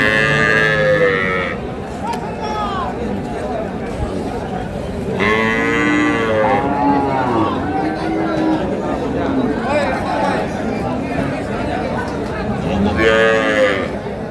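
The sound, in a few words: dairy cows at a cattle market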